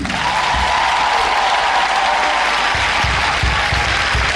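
Church congregation applauding and cheering in praise during a year-end worship service, a steady dense roar of clapping from a large crowd that carries through the whole stretch, with low rumbling thumps underneath toward the end.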